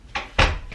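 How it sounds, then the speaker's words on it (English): An indoor door is pushed shut, with a light knock and then a firmer thud as it closes, close by and with no voices. "close my door, please."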